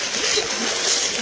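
Water rushing and splashing through a flooded riverside neighborhood street, a steady, dense wash of broadband noise with no distinct individual splashes, close and continuous.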